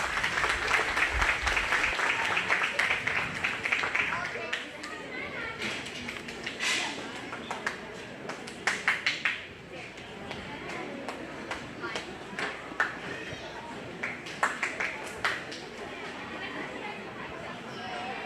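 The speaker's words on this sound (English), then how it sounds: "Go ahead and give these 3 young ladies a big round of applause" Applause from a livestock-show crowd for three young 4-H/FFA goat exhibitors, a dense patter that fades after a few seconds into scattered claps, taps and crowd chatter in the arena.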